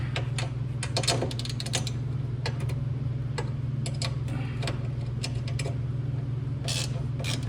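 Socket wrench ratcheting on bolts of a seat on a 1962 Alumacraft Maracaibo 14 aluminum boat: bursts of rapid metallic clicks with short pauses, close by, over a steady low hum.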